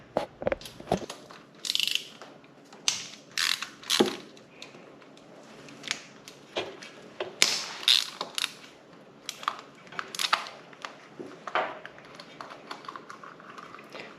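Oil filter cover bolts being loosened on a Kawasaki KLX110 dirt bike: scattered sharp metallic clicks and clanks of a wrench, some in quick clusters and others isolated, close by against a quiet background.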